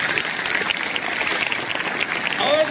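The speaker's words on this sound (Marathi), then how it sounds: "जोरात टाळ्या वाजवा." An audience claps at a motivational lecture in Barshi, a brief burst of applause mixed with some voices.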